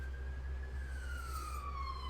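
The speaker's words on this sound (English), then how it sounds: "Oh, there's a Hey, siren." A siren passes outside, its single wailing tone sliding slowly downward as it moves by, moderately distant over a steady low rumble of background noise.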